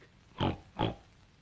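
Two short grunting oinks in a voice imitating a pig during a children's story reading, evenly spaced and close, alone against quiet.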